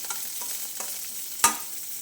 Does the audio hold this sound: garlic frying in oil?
yes